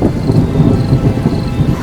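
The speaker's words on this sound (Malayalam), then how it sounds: "ഇതൊക്കെ വലിയ മഴയാണോടാ?" Heavy rain pours down with a deep, steady roll of thunder, loud and close, continuous throughout with no voices.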